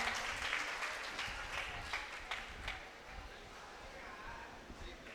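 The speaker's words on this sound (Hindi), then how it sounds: "आप जोरदार तालियों के साथ उनका इस्तकबाल करें" Audience clapping at an Urdu poetry mushaira, a burst of applause that is loudest at the start and thins out over several seconds, fairly quiet and distant, with a voice beginning to speak.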